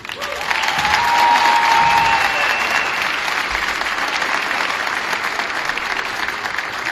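An audience applauds Coach Chris Cardon at his retirement ceremony honoring 37 years of service, a loud sustained burst of many hands clapping that swells early and then holds steady.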